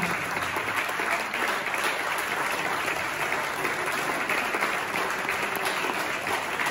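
A tango crowd at a Rimini dance academy applauds in tribute to a late friend, steady dense clapping sustained loudly throughout with no voices standing out.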